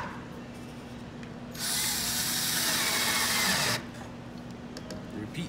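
A power driver runs in one steady burst of about two seconds while screwing a leg onto a convertible bench/table, a close whirring buzz set between quieter handling noises.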